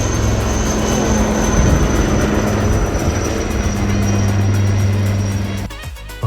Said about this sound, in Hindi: 2-3 मिनट बाद ही इस हेलीकॉप्टर ने अपनी उड़ान भरी।